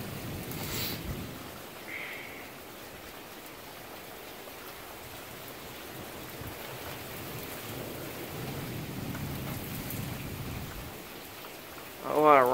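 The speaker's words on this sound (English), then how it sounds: "A lot of rain to associate with it." Heavy rain pours steadily through a severe thunderstorm with intense lightning and damaging winds, a dense continuous hiss, with a brief burst near the start and a sharper rise at the very end.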